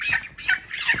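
Chickens on a poultry farm give repeated harsh squawks, three close, loud bursts in quick succession with no talk over them.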